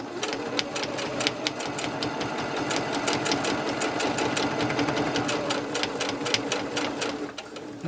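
A sewing machine stitches slipper pieces in a rapid, even mechanical chatter, close and continuous, slowing slightly at the end.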